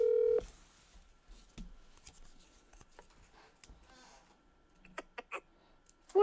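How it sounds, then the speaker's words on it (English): A phone rings in a room during a group call, a short electronic tone opening the clip and another brief ringing burst at the very end, with faint background activity between. "someone's phone's ringing"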